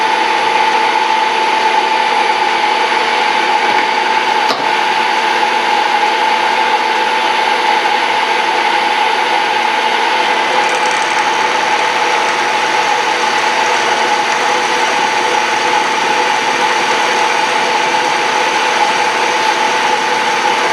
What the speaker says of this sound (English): Now you might be wondering why I'm using such a small end mill.